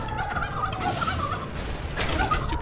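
A chicken in a video game clucks and squawks steadily over a busy backdrop of game sounds, with the fowl calls repeating close and clear for the whole stretch.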